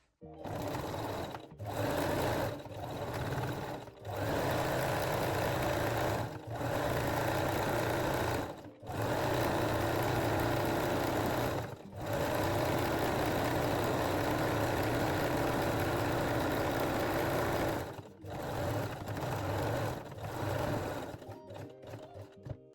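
A sewing machine running a 3-step zigzag stitch along stretched elastic on a bralette, its loud steady motor whir in long runs broken by short pauses, close and alone.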